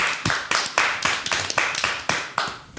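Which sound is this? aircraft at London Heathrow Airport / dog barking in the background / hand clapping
hand clapping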